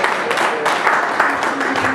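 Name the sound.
round of applause from the audience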